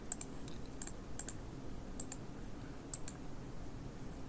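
A computer mouse clicks sharply and close by, several single and paired clicks at irregular intervals over a quiet background, with no talking.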